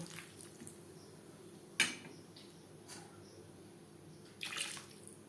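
Water poured into a pan of thin rohu fish curry with potatoes, a faint, steady wash of water with a few soft knocks, fairly quiet and with no talking.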